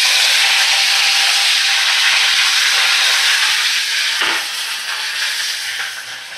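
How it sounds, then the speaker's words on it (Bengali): Curry leaves sizzle loudly in hot oil in a pan where fish has just been fried, a dense, steady crackling hiss that holds throughout and eases slightly toward the end. "দেখো, ওই গরম তেলে আমি এবারে কারি পাতা দিয়ে দিলাম।"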